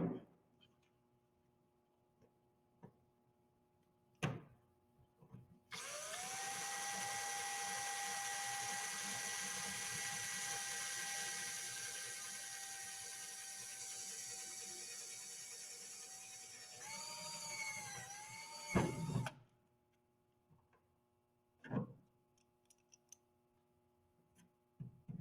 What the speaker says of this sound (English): Drill the holes in the doubler and then use it as a template to drill the holes in the panels.